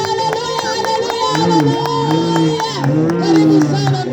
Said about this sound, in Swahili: Shangwe na vigelegele, makofi kwa Yesu.